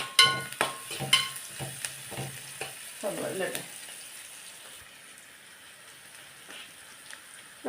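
Mezhukkupuratti vegetables with small onions and dried red chillies sautéing in a pan, with a run of sharp stirring scrapes early on, then a softer steady sizzle that fades toward the end, close by.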